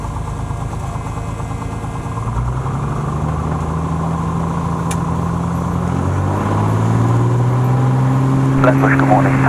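A Piper Cherokee Six's engine drones steadily through its takeoff run, rising in pitch and loudness as it powers up, with radio voices crackling over the cockpit noise.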